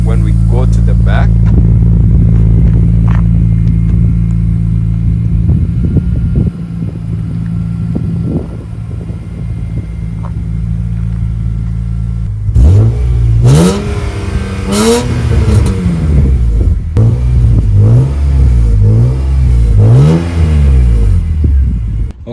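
A BMW E46 M3 heard at close range from the rear, first holding a steady, loud idle, then revved in a series of sharp rising and falling bursts, with someone talking over parts of it.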